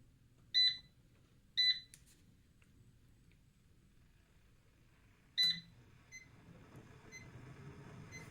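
An OUKITEL Abearl solar generator gives three sharp electronic beeps while it runs an air fryer and water pot near its 2200-watt limit, two close together and a third a few seconds later, over a quiet hum.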